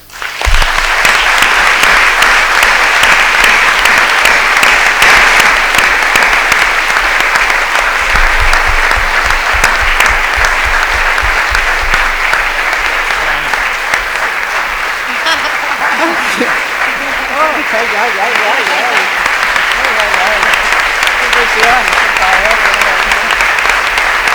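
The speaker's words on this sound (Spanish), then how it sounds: "Para todos ellos les pido un fuerte aplauso." Loud, sustained applause from a large audience at a school's 30th anniversary event, dense clapping filling the whole stretch with scattered crowd voices and brief calls underneath.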